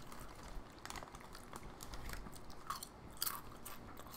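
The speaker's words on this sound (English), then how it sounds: "these are very crunchy chips, I will admit that" Someone bites into and chews very crunchy chips close to the mic, with irregular sharp crunches over a quiet background.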